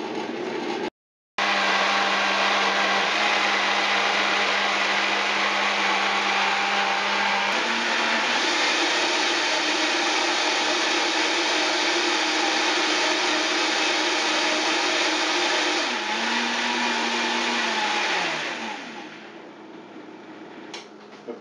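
A blender whirs loudly and continuously for about twenty seconds making an apple and dandelion green smoothie, its motor pitch shifting a couple of times before winding down at the end.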